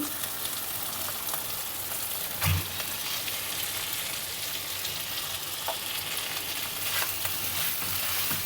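Cauliflower florets go into a pan of spices frying in oil with potatoes for a no-onion, no-garlic bhetki fish curry, giving a steady close sizzle with a brief dull thump as the pieces drop in and a few soft stirring scrapes.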